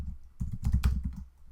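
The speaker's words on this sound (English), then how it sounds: "that was the most ridiculous typing ever" Rapid, uneven keystrokes on a computer keyboard during coding work, a quick burst of close, clattering taps with no talk.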